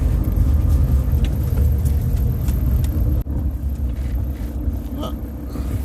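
A car on a road gives a steady low rumble from inside the cabin, which briefly drops out and then resumes as it moves off, with faint ambient noise and no speech.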